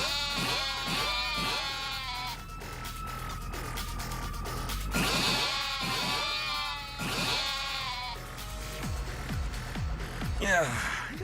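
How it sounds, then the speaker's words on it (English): Sheep in a video game bleat repeatedly, the wavering calls overlapping in a steady series over a constant game background. "These are much more relaxed sheep."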